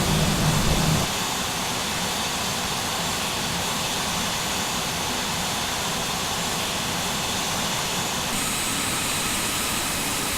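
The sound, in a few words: airliner jet engine drone while cruising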